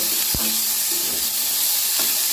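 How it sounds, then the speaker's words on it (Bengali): Green chili, garlic and onion fry in a pan with a loud, steady sizzle and hiss, broken by a few brief clicks and scrapes from stirring, close by and with no voices. "সবগুলোই আমি দিয়েছি ভালো করে এগুলো ভেজে উঠিয়ে নেব"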